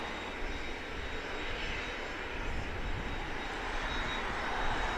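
Cayman Airways airliner engines at Grand Cayman airport, a continuous broad roar that holds steady and swells slightly, heard from outdoors at moderate distance with no talk.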